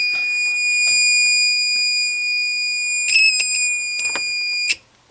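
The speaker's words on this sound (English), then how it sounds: "of course when I connect the battery directly, it starts to beep." An electronic bird chirp generator circuit gives a loud, steady, high-pitched tone close by, with brief warbling chirp bursts partway through before the sound stops abruptly.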